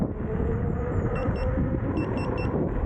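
A few short high-pitched electronic beeps from a Begode electric unicycle sound in two quick groups over a low, steady hum.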